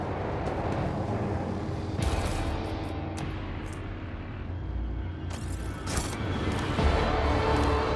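A huge cannon unloads in Warhammer 40,000: Rogue Trader, a dense, sustained roar of heavy blasts and rumbling booms with sharp crackling bursts layered on top, loud and continuous throughout without any voices.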